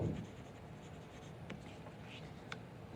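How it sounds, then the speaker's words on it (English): A pencil lightly sketching lines on paper for a zentangle drawing, faint scratchy strokes in short bursts, quiet and close, with soft room noise. "So divide that one up lightly in pencil."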